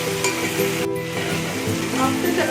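Ginger garlic paste sizzling steadily in a hot pan while a vegetable kurma cooks, a continuous close frying crackle with no talk.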